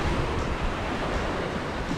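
Surf rolling in at the mouth of the Jardine River near Muttee Head, a steady broadband wash of waves with wind buffeting the microphone, continuous and close throughout.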